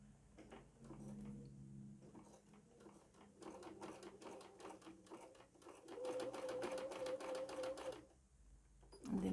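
A sewing machine stitches a zigzag on patchwork fabric made from scrappy fibers and offcuts, running in rapid bursts with brief pauses, close and fairly loud, the whirring speeding up toward the end.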